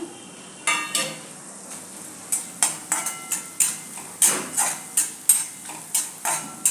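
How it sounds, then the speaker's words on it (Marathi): Whole spices such as cloves and cinnamon dropped into hot oil in a kadhai, a string of sharp metallic clinks and scrapes in an irregular rhythm over a faint sizzle, close up. "आता हे सगळे मसाले पहिले तेलात घालूया।"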